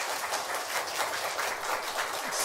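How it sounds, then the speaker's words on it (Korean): A church congregation claps together to welcome a new member during a service, a dense, steady wash of applause that holds at an even level from start to finish. "우리 큰 박수로 환영하겠습니다."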